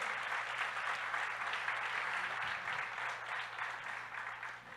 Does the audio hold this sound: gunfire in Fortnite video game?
no